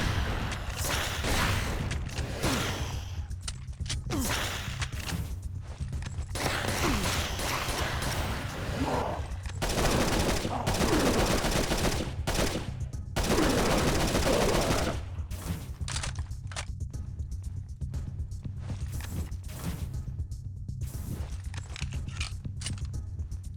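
A Halo-style pistol fires repeatedly in N.O.V.A. on PSP, close sharp shots in irregular bursts over a constant low game rumble, with dense clusters of gunfire and mechanical clatter in the middle.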